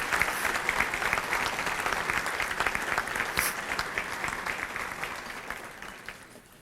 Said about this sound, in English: let's give all of these past year inductees a round of applause